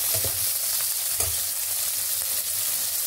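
Ginger and garlic sizzling and frying in a hot pan to cook off their raw smell, with a steady close hiss and a few soft stirring scrapes.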